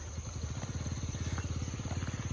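A motorcycle engine runs steadily nearby in a Pakistani village, its rapid even pulsing thrum continuing throughout with no voices.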